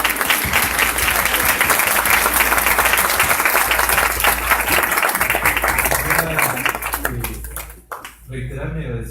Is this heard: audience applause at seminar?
yes